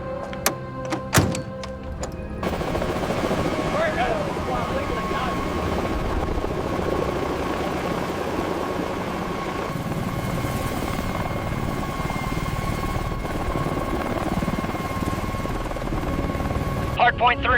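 A Mi-24 Hind helicopter's rotor and engines run with a continuous loud turbine roar and rotor chop after a few sharp thunks at the start, with talk in the background.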